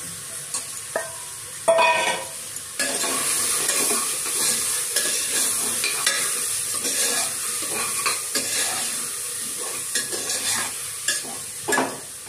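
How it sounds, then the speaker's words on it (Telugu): Washed mixed lentils tip into hot, sizzling tempering inside a pressure cooker for dal tadka. Close frying hiss runs throughout, broken by repeated scraping stirs and light metal clinks against the pot. "కడిగి పెట్టుకున్న పప్పు కుక్కర్లోన వేగుతున్న తాలింపులోన ఈ పప్పు కూడా వేసేస్తాం అన్నమాట"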